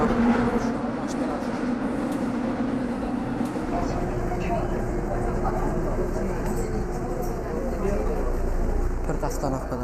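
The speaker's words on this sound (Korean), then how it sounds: "서둘러 종로 3가로 가는 지하철에 올랐습니다." A Seoul metro subway train heading to Jongno 3-ga rumbles steadily on its ride, a continuous low roar of wheels and carriage noise throughout, with faint voices in the car.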